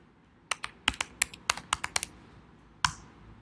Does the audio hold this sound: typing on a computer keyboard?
yes